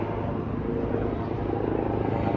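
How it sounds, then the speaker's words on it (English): Helicopter at Billy Bishop Toronto City Airport, a steady close rotor and engine roar that stays loud and constant throughout, with no talk. "We've got a helicopter here."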